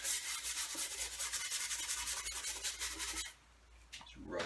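A cloth rubs malt vinegar into the wood of a coffee table in quick, even strokes, a close, dry scrubbing sound that pauses near the end and then starts again briefly.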